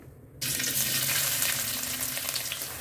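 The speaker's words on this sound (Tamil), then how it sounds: "இந்த எண்ணெயில் வந்து இப்போ வெங்காயத்தை பொரிக்கிறதுக்காக போட்டிருக்கிறேன்னா." Oil sizzles steadily after a short quiet start as onions drop into the hot pan, a dense close crackling frying sound with a faint clink near the end.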